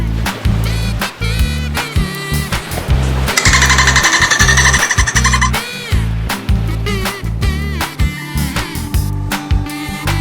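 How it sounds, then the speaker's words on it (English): A dolphin chatters with rapid, loud click trains and rising, looping high whistles, repeated in quick bursts. "Dolphin."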